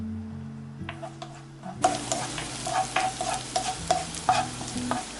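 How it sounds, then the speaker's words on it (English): Shallots frying in oil in a pan for steamed soft tofu with shiitake, a soft sizzle that swells louder partway through, with scraping stirs and light clinks over a faint low hum, no talking. "And then cook the shallot until it's become golden brown."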